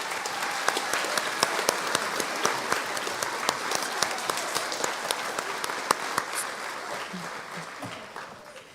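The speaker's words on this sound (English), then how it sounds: "Please help me give these students a round of applause." A school audience at a spring band concert gives the student players sustained, dense clapping that stays steady for the whole stretch and thins slightly at the end.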